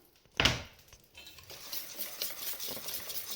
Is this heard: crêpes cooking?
yes